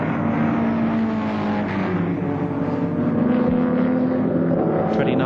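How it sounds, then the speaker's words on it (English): A Ford Escort racing sedan, driven by Colin Bond at Warwick Farm in 1973, overtakes another car on the track, its engine a loud, sustained high-revving drone with a faint pitch shift as the cars pass. "Colin Bond overtaking another car in the Escort"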